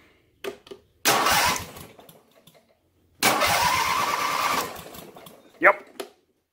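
A starter motor cranks a lawn mower engine swapped into a car, in two long bursts of rough, rhythmic spinning, each lasting a couple of seconds, with short clanks and knocks between them, close and fairly loud.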